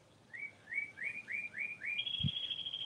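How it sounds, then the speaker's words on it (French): Small birds chirp outdoors in a quick run of about six rising tweets, then a steadier high trill, moderately close and alone with no talk. "Et allô, les oiseaux."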